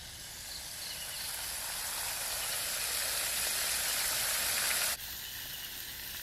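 A whole chicken frying in hot oil, home village-style cooking, makes a strong continuous sizzle that swells steadily for about five seconds and then drops abruptly to a softer hiss.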